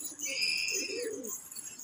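Pet pigeons coo softly after being fed millet and a ghee-almond feed mix, low throaty coos mixed with faint high chirps, close and calm.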